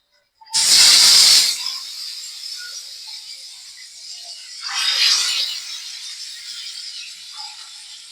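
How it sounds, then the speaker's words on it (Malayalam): Fish shallow frying in hot coconut oil with a sprig of curry leaves in a pan, a loud sharp hiss and sizzle as the fish goes in, easing to a steady crackle, then a second loud burst as more fish is added. "രണ്ടെണ്ണം രണ്ടെണ്ണം വെച്ചിട്ട് നമുക്ക് ഷാലോ ഫ്രൈ ചെയ്തെടുക്കാം"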